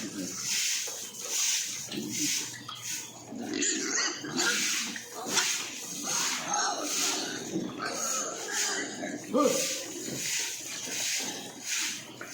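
Pigs being fed at a trough, grunting and oinking in irregular bursts, fairly quiet and close, with scuffling and a voice talking intermittently among them.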